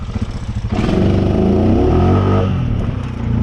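Can-Am 650 ATV in second gear revving hard as it accelerates into a wheelie, the engine note rising from idle into a loud, sustained, close-up roar with shifting pitch.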